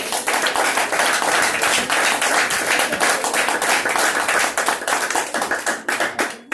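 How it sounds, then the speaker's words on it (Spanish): A church congregation claps together in sustained, dense applause that stays loud throughout, then thins into scattered claps near the end. "Démosle un aplauso a él si puede aplaudir."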